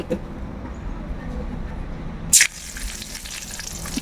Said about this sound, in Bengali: ভেজে রাখা মাছের তেলের মধ্যে আমি দুটো শুকনো লঙ্কা দিয়ে দিচ্ছি